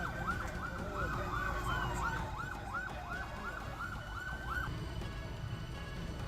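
A fire brigade siren wails in rapid up-and-down cycles at a metro station fire in BKC, Mumbai. It is loud and steady over a rumble of traffic, then cuts out after a few seconds.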